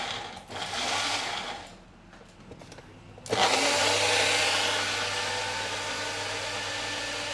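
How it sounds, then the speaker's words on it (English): A cheap Magic Bullet-style blender runs in a home kitchen, first buzzing briefly, pausing, then roaring back on loud and steady for several seconds with a low hum underneath. "I always feel a bit bad putting on blenders with people with headphones."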